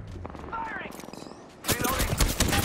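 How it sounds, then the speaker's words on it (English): Enemy gunfire in Apex Legends, a burst of rapid shots cracking out loudly in the last second after a stretch of talk mixed with game sounds, with people speaking under and around the shooting. "The enemies are shooting."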